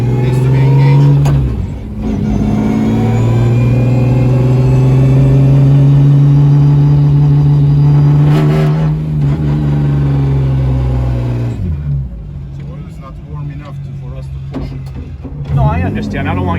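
A rally-spec BMW engine drones loudly from inside the car, its pitch climbing as it revs and dropping sharply between gear shifts, while people talk over the noise.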